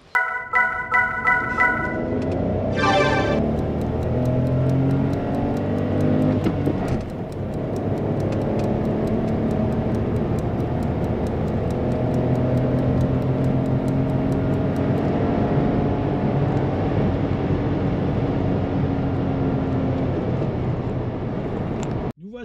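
A 2017 Dacia Sandero Stepway with the 0.9 TCe 90 engine and manual gearbox drives on the open road, a steady engine drone and road roar rising and falling through gear changes, close and continuous after a brief chime at the start.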